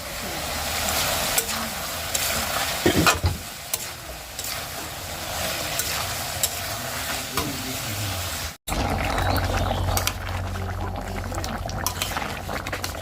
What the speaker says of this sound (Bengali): এই মটরশুঁটিগুলো আর ধনে পাতা হালকা করে একটুখানি ভেজে নিয়ে